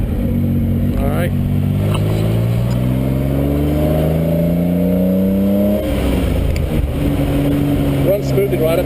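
A 1967 Austin-Healey BJ8 MkIII engine pulls steadily from low revs, its droning note climbing through several seconds before easing and building again, loud and close throughout.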